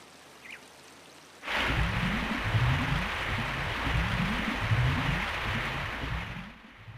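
Lake water surges and rises in The Legend of Zelda: Ocarina of Time, a sudden loud rushing swell that starts after a quiet moment, with a rhythmic low churning pulse beneath it that fades out at the end.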